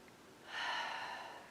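A single deep breath during a yoga stretch, a soft airy inhale that rises and fades, heard close and alone.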